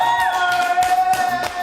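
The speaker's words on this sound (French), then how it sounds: "On l'applaudit très fort" A studio audience cheers and whoops for a television presenter, loud crowd noise with shouts and a sustained tonal music sting running underneath.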